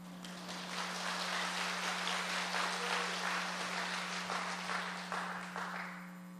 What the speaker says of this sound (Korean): 박수 치셔도 됩니다